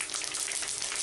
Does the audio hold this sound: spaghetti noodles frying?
yes